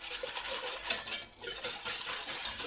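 A utensil stirs a mixture of cornstarch, milk and sugar in a bowl, giving close, light scraping and clinking taps at an uneven rhythm, with a couple of sharper metallic knocks and no talking.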